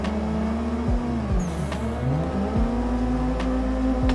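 A sim racing car in a drift video game, its engine droning loudly and continuously while the pitch sweeps up and down through quick downshifts and revs, with brief dips and blips as gears change.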